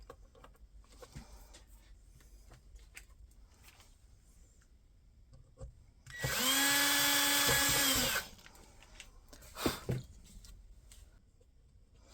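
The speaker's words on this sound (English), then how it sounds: "Let's go ahead and unscrew this one." A power drill on a key holder craft project whirs up and runs steadily for about two seconds while backing out a screw, loud and close against quiet handling sounds and a few clicks.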